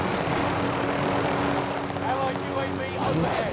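An airplane engine drones steadily overhead in the video game Call of Duty: Modern Warfare, a continuous loud roar filling the scene as players talk over it.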